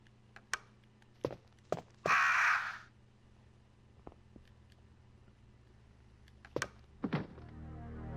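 Crows caw in Resident Evil Director's Cut, a harsh burst of cawing early on followed by sparse thuds and clicks in a quiet room.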